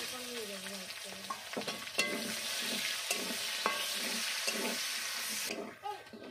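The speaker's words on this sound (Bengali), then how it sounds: "আমি 4 থেকে 5 মিনিট পেঁয়াজটা ভেজে নিলাম।" Chopped onions frying in a pan with cumin seeds make a dense, continuous sizzle up close, broken by scattered scraping stirs and light clinks, with a faint voice briefly at the start.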